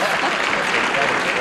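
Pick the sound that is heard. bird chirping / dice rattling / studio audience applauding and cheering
studio audience applauding and cheering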